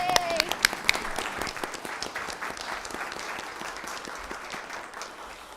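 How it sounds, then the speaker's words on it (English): Audience applause at a formal school board meeting, dense steady clapping from a room of people, with a few brief vocal exclamations and sharp whoops near the start before the clapping settles into an even wash. "Be okay to clap now."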